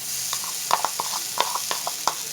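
Homemade khoya (mawa) roasts in a kadai for gujiya, with close, crisp scraping and tapping strokes of a spatula against the pan over a soft sizzle.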